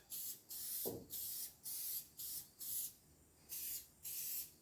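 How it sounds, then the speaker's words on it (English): Gorilla heavy duty spray adhesive is sprayed onto felt for an old lamp in about eight short, evenly spaced hissing bursts from the can, each followed by a brief pause. "I went to Menards and I got Gorilla Spray Adhesive, heavy duty"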